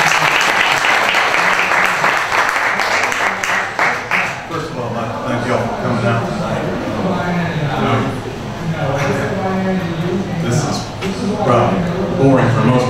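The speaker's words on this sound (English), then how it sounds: "Please, round of applause for Mr." Audience applause at a Fulton County, Georgia sheriff GOP candidates' forum: loud, dense clapping that fills the room, easing slightly and continuing steadily under a voice.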